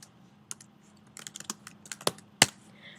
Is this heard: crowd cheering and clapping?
no